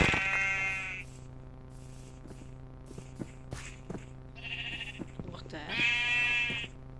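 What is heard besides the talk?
sheep bleating in Minecraft video game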